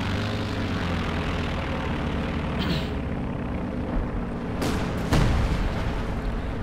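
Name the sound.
aircraft strafing run in a World War II strategy video game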